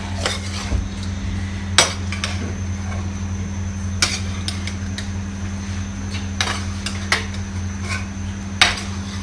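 A utensil clinks and scrapes against a pot at irregular intervals while chicken tikka macaroni is stirred, over a steady low hum.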